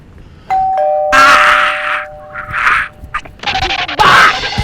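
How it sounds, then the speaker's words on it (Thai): A house doorbell is pressed once, and a long steady electronic chime rings out loud and close. Scuffling, bumps and rustling movement follow and overlap it. "เอาก็ผมกดออดให้คนในบ้านมาเปิดประตูให้ไงครับ"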